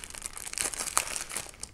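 Plastic packaging for false eyelashes crinkles and crackles as it is opened, with irregular rustling close to the mic and no talk.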